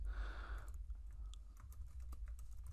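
Fast keyboard typing at close range, a dense burst of key clicks in the first moment and then scattered single taps, with no talk over it.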